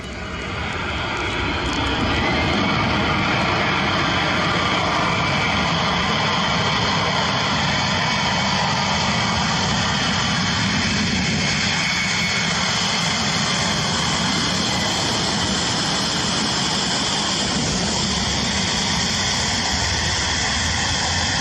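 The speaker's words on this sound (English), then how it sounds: "This Boeing 767 using reverse thrust on a wet runway," A Boeing 767 on a wet runway roars with engines in reverse thrust, a loud, sustained jet rush with spray hiss that swells in the first seconds and then holds steady for the rest.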